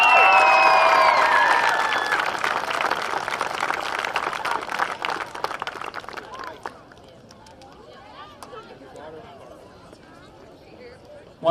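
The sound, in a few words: crowd applauding softball players at parade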